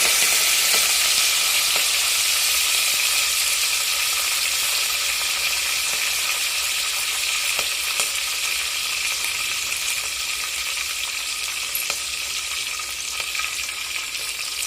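Cumin seeds and curry leaves sizzle steadily in hot oil for a village-style wet moong dish, a continuous bright frying hiss with faint pops and no voices.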